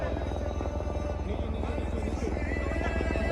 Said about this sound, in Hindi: अभी यहाँ पे हेलीकॉप्टर आ रहा है